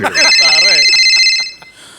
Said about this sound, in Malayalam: hello Sethurama Iyer C speaker phone എടുത്തു സാറേ